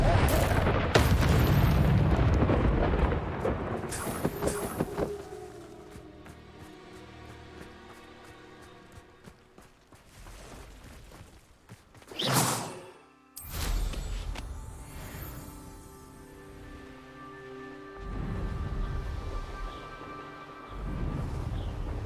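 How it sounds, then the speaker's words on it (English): Confringo fire spell in Hogwarts Legacy bursting into a loud booming blast around the middle, with crackling game effects and rumbling impacts before and after, while a voice talks over parts of it. "Confringo!"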